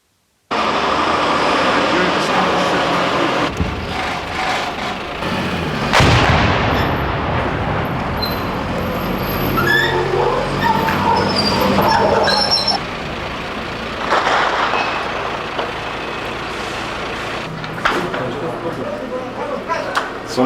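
Artillery shells exploding in besieged Sarajevo, heard among UN peacekeeping soldiers. Loud heavy blasts land every few seconds over a constant rumble, and voices can be heard around them.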